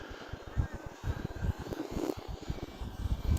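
An Arrows Husky RC airplane flies a knife-edge pass in 8 to 10 mph wind, its small engine and propeller making a steady, distant buzzing drone under gusty wind noise.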